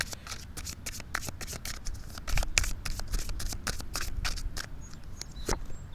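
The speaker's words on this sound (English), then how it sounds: "let's pull out a card from the Botanical Inspirations" Botanical Inspirations oracle cards being shuffled and a card drawn, a dense run of close, crisp riffling and flicking cardstock with rustling hand movements throughout.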